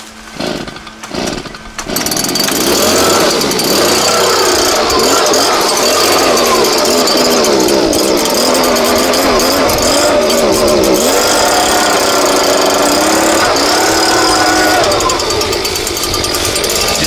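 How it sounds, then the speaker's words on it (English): An Echo PB-580T two-stroke leaf blower engine sputters briefly, then roars to a loud, steady, buzzing run close by that holds for the rest of the clip. "Let's see if I can get this handheld blower started."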